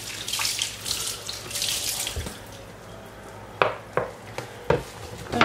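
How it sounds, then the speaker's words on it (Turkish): Tap water runs and splashes steadily while a cast iron pan is rinsed in a sink, then gives way to a few short clanks and knocks of the pan being handled. "şimdi yıkayacağız suyun altında"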